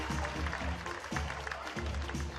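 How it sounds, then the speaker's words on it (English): Arena crowd applause at a New Zealand NBL basketball game, a dense continuous wash of clapping and cheering beneath a booming amplified announcer's voice. "give them a round of applause"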